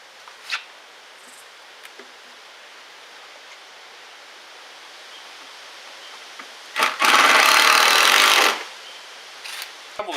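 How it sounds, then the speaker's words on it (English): A power drill drives long screws into wooden boards while a rabbit tractor is being built, giving one loud, steady whir of about two seconds preceded by a few faint knocks and clicks in an otherwise quiet space. "I'm attaching these together with long screws."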